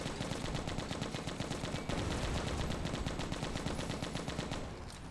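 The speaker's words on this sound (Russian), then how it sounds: "Перезарядочка сюда и пулемет снова." Sustained rapid machine-gun fire from the zombie-survival shooter game Left to Survive, a dense unbroken stream of shots lasting several seconds with a brief dip partway through, loud and without speech.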